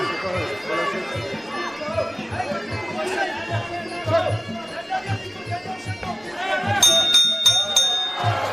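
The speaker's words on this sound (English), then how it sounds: "And there it is, the final bell." The final bell of a Muay Thai fight rings in several quick strikes near the end, cutting through steady crowd chatter and voices in the arena.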